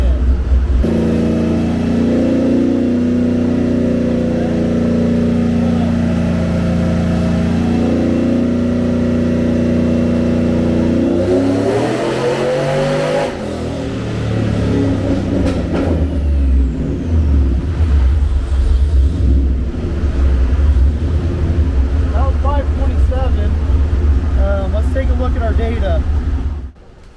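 A cammed 6.0 V8 Chevrolet Silverado truck on a chassis dyno with nitrous roars loud and close, holding a steady drone, rising sharply as it revs, then pulling hard again before cutting off abruptly.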